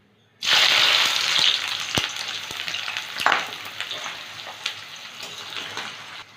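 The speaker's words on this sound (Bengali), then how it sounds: "পেঁয়াজটা ভেজে নেব।" Sliced onions fry in hot mustard oil in a kadai over a high flame while a chicken kosha dish is being made, giving a loud, steady sizzle that starts abruptly, with occasional sharp crackles and stirring clicks.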